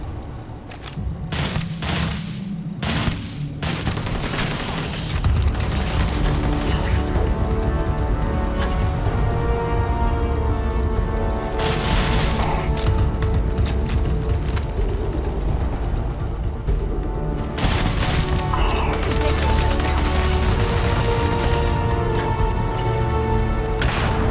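Sustained rapid gunfire from the Starfield video game, with dense overlapping bursts and heavy booms running loud and nearly continuous for the whole stretch.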